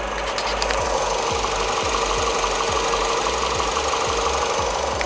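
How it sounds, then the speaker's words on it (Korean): Renault Samsung New SM5 engine running steadily at idle, a continuous mid-level hum with a regular faint ticking pulse throughout, heard close and without voices. "엔진 소리도 제가 담아 드릴게요."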